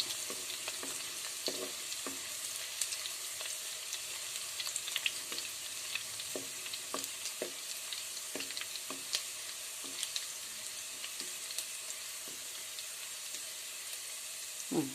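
Soya chunks fry in a pan with a steady crackling sizzle while a utensil stirs them, making repeated scraping strokes and soft knocks. No one speaks.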